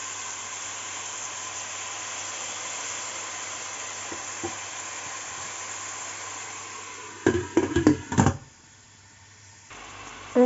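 Finely chopped onion frying in a pan for an Indian quail dish, a steady low sizzle with brief louder bursts of stirring and clatter near the end.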